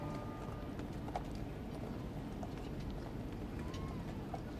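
Horses' hooves clip-clopping on a road during the 1997 funeral procession of Diana, Princess of Wales, the steady, distant hoofbeats mixed into a broad murmur of a large street crowd.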